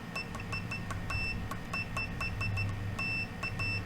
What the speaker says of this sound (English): And response time on their continuity check is excellent.